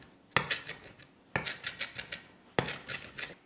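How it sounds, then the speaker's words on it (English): Knife finely chopping fresh parsley on a board, with three sharp strokes each followed by a few quick rasping taps, close and clear with no talk. "I'm just going to finely chop our parsley"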